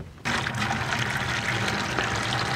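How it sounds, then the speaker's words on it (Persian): Water gushes steadily into a bucket out in the desert, a loud, continuous pour that starts abruptly after a brief quiet moment. No voices. "خب من اینو براتون آب کنم"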